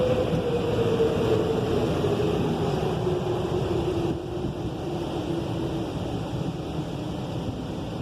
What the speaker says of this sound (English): Here's our underbody spray.